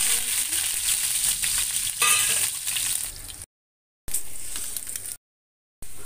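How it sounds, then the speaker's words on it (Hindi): Eggs and potatoes for egg biryani fry in a pan with a bright sizzle and crackle, plus occasional scraping stirs and a light clink; close and steady, broken by two short silent gaps. "हमारा अंडा आलू कितने अच्छे से फ्राई हो चुका है"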